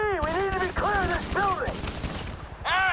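Gunfire rattles in rapid bursts during a firefight in the video game GTA 5. Strained vocal groans and shouts sound over the shots, loud and close.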